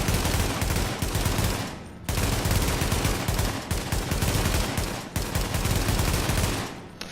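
A G36 carbine rifle fires in the video game The Division. The gunfire comes loud and close in dense, rapid full-auto bursts, with two brief breaks in the shooting. No one speaks.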